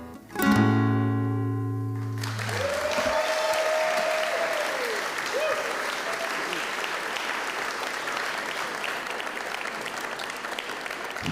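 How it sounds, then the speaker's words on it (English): Audience applause at a Scots Language Awards ceremony, a sustained burst of clapping that rises quickly after a held musical chord and continues loud and steady, with faint voices and a brief cheer mixed in. "Let's hear it again for Sean"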